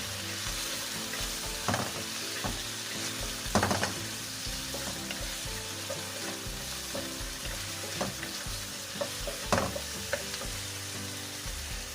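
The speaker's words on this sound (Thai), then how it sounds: "เราก็ใส่ปลาหมึกลงไปค่ะ" Squid stir-frying in a pan with garlic and pepper gives a steady close sizzle, with a few louder spatula scrapes and clinks along the way and no voices.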